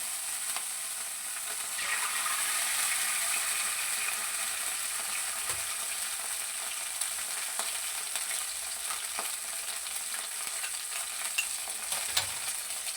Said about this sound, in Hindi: अब हम अंडे डाल देंगे